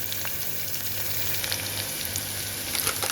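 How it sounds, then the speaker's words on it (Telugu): Moong dal frying in a pan for moong dal khichdi, a steady close sizzle with light crackles and faint stirring scrapes, no voices. "అది కూడా పప్పు బాగా వేగనిద్దాం."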